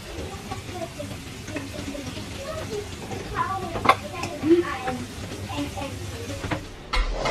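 Empek-empek fish cakes frying in hot oil in a home kitchen, a steady close sizzle with occasional stirring clatter and a few louder pops.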